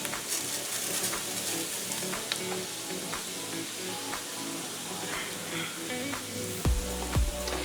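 Rice frying and stirred in a pan over low heat, a steady close sizzle with scattered scraping and clinking stir strokes, heavier knocks near the end.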